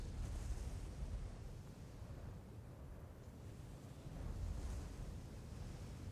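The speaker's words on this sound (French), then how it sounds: "La mer est calme." Calm sea with gentle waves washing softly around a small boat, a steady low rumbling wash with slight swells and a breezy hiss, continuous and moderately quiet with no voices.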